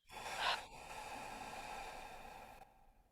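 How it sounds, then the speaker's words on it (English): A single long breath drawn in and then released out through parted lips, soft and close, with a brief stronger rush early on that fades into a steady airy exhale. "You take a nice full deep breath in, part your lips, offer your breath out."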